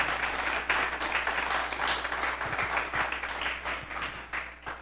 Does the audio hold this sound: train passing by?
no